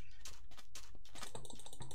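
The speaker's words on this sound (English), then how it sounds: "can your clicking be any louder?" Loud, rapid clicking of computer keyboard keys during a Minecraft session, a dense run of sharp taps close to the microphone with no talk over it.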